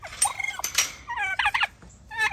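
Turkeys gobble loudly and close by in several rapid, warbling bursts, overlapping calls with short pauses between them and no talk.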